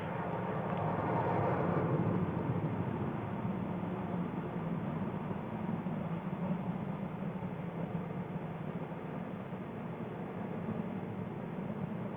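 Space Shuttle Challenger rolling out on a Florida runway after touchdown with steady braking, heard as a continuous broad rushing roar, even and fairly distant, no voices.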